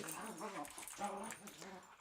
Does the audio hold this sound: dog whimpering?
yes